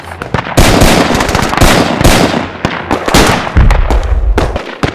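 Gunfire from a toy army men shootout in a cartoon battle: dense, loud bursts of rapid cracking pops with a heavy low rumble underneath, continuous and close throughout.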